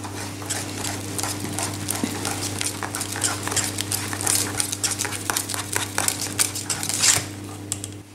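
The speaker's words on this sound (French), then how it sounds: "Et je vais mélanger ma crème qui va bien se parfumer à la danette." A spoon scrapes and clinks against a bowl while cream flavored with Danette is stirred for a caramel Christmas log, a busy run of close, bright metallic taps and scrapes over a low steady hum.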